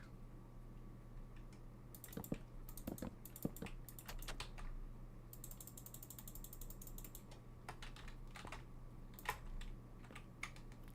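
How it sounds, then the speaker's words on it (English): Computer keys clatter in irregular bursts of sharp taps and clicks over a steady low hum, close and fairly quiet, with no talk. "But I was doing some typing."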